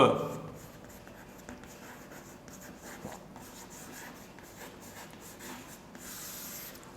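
Pen or marker writing on a board during an organic chemistry lecture, a soft continuous scratching and rubbing at low level, with faint room noise and no talk heard.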